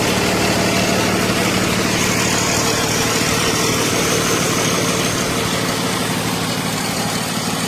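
A 2016 Freightliner Business Class M2 106 truck diesel engine idling steadily, a loud, continuous low rumble close by with no talk.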